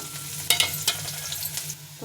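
Onion and green chili hit hot oil already seasoned with asafoetida and cumin, giving a close, steady sizzle with a few sharp bursts and light stirring scrapes.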